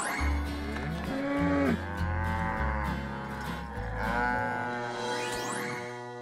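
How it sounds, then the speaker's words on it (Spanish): Cartoon cows moo in a long, low, drawn-out chorus of several overlapping calls. The calls are fairly loud and heard alone, with no talk. "Divertocito, las vacas se comieron todas las flores que había."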